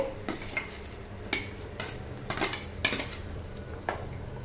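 A spoon clinks and scrapes against a metal pot while sundakkai kuzhambu, a Tamil turkey-berry curry, is stirred, making scattered sharp knocks over a low, quiet background.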